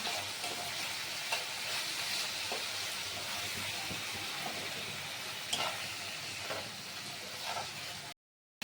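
Spiced potato curry (aloo dum) cooking in a pan with ground black pepper, giving a steady close sizzle and hiss with occasional soft spoon scrapes from stirring; no voices, and the sound cuts out briefly near the end.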